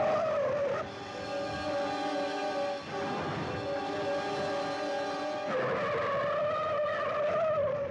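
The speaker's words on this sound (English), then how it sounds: "But we get an exciting car race, and a bunch of stuff happens." Cars racing in the 1958 film Daddy-O, with loud sustained tire squeals and skidding over engine roar, no talking.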